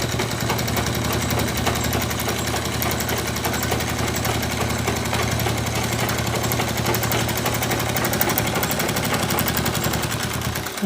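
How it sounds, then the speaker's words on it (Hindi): Steady, continuous mechanical whir of a machine stitching a seam while a hand fan is being made, holding at an even level throughout with no talking. "एक सिलाई यहाँ पर हमें लगा देना है, इस तरह हमें एक सिलाई लगाना है।"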